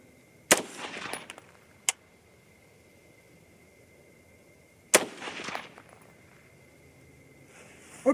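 Two sharp, loud rifle reports, several seconds apart, are fired at gold dot targets on an outdoor range, each with a brief echoing tail, and a faint click sounds between them.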